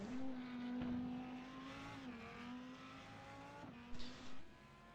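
An Audi R8 GT3 race car engine in iRacing drones at high revs with gear shifts at Road Atlanta, pitch sliding between changes, and a brief tire squeal near the end.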